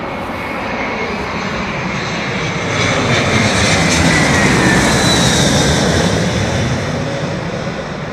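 Airbus A320 airliner at London Heathrow Airport, its engine roar a steady broad rumble that swells slightly midway as it passes, moderately near with no talk.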